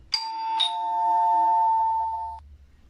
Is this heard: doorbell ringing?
yes